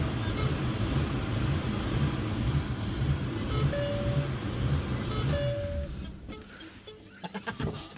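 A BMW 335i with the N54 engine fires up and runs, a steady close engine drone with a pulsing low idle and occasional tonal whine, easing down near the end with a few clicks.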